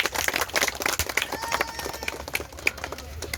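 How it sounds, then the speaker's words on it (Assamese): An audience clapping hands at a village gathering honouring a gaonburha, scattered, uneven claps with a faint voice and whistle-like tones in the background. "এটি হাত চাপৰি দিয়ক সকলোৱে।"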